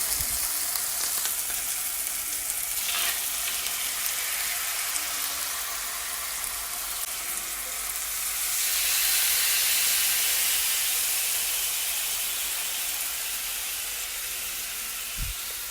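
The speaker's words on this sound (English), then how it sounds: "Now you want to allow your salmon to fry up for about 3 to 4 minutes on either side." Salmon steaks fry in a non-stick griddle pan with a steady, close sizzle and hiss that swells briefly midway, continuing alone without any talk.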